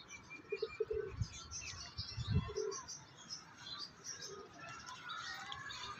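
Pigeons coo softly in a loft alongside aseel roosters, a few low, rounded calls near the start under a noisy background of chirps and rustling.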